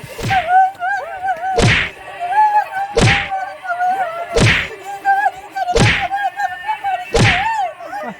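Six loud, sharp thwacks of someone beating a child, spaced about every one and a half seconds, with shouting and wailing voices between the blows.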